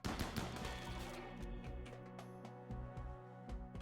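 Colonists in RimWorld open fire: rapid volleys of small gunshots crackle in dense bursts, thinning into scattered single shots, fairly quiet and with no one talking.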